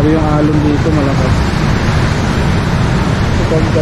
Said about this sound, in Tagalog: Lalo yung alon dito, malakas.